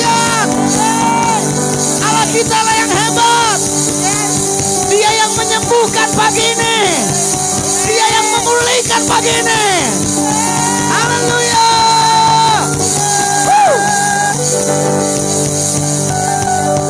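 A church congregation cheers, whoops and shouts praise throughout a worship service, steady and loud with crowd voices layered over music.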